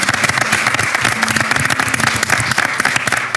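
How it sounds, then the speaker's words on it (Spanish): Loud studio audience applause on a Chilean TV show honoring a motorcycling champion, dense, vigorous clapping filling the room continuously from start to finish. "Y un aplauso para él también."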